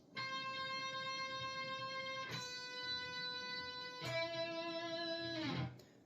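An electric guitar lead plays a slow melody of long, sustained, singing notes that shift pitch a few times, ringing clearly over a steady backing, from the ending of a song.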